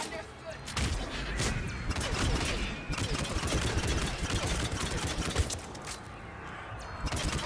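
Rapid assault rifle fire in a Mass Effect 3 firefight, with dense crackling bursts continuing through the scene alongside the rumble of combat, while a player talks over it.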